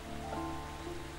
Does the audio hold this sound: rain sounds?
yes